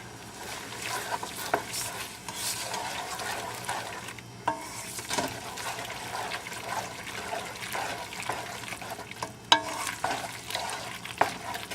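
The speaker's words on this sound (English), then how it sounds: "we'll just keep stirring it until the butter has pretty much completely disappeared" Macaroni gets stirred in a pot with melting butter and a Kraft cheese powder packet, giving soft wet scraping and squelching that repeats steadily throughout, close and fairly quiet, with no talking.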